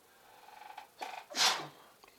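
A single sharp sneeze after a brief breathy buildup, close and fairly loud, at a college baseball game, with no talking.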